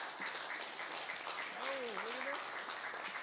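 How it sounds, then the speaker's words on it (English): Audience applause at an audio engineering society meeting in Melbourne, thanking a guest presenter after his talk; steady, diffuse clapping throughout, with a brief whistle-like tone rising and falling midway. "giving a round of applause to David to thank him for that"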